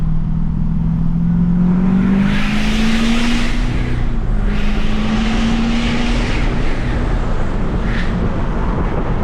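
An LML Duramax diesel pickup truck drives and is shifted manually, its engine droning loud and steady throughout, with a rising pitch sweep as it pulls through a gear.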